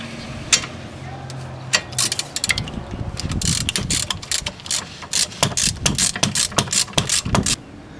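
A ratchet wrench loosening the top brake caliper bolt on a 1998 Audi A6 Quattro during a front brake pad job, with rapid close clicking bursts in several runs and a brief voice at the start.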